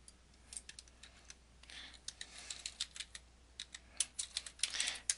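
A computer mouse clicks while control chart software is used in a spreadsheet. The clicks are quiet, close and crisp, coming in an irregular run of single and rapid clicks.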